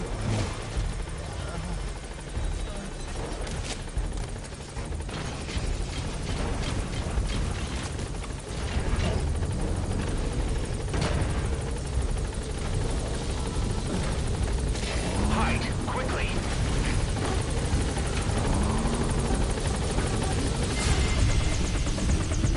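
Helicopter in Metal Gear Solid V hovering over a landing zone, a steady loud rotor drone filling the whole stretch, with game voices and effects mixed in over it.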